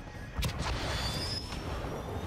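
Cruise missile strike in Call of Duty: Modern Warfare II Hardpoint mode, a deep boom at the start followed by a sustained low rumbling roar, moderately loud and continuous.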